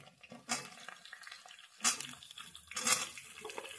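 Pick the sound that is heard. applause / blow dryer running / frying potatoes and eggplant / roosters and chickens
frying potatoes and eggplant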